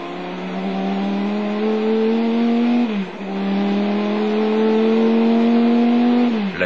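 Chrysler Viper race car at Le Mans in 1999, engine screaming at about 300 km/h between chicanes, a loud sustained high-revving roar with a brief gear-change dip midway, heard onboard with no talk.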